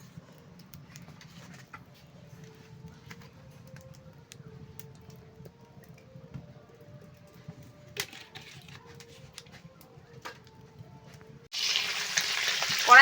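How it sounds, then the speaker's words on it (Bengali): Fish frying lightly in hot oil in a wok for a mango and shol fish dish, a steady soft sizzle running throughout, with a few clinks and a louder burst of spattering near the end. "মাছটা একটু হালকা করে ভেজে নেবো"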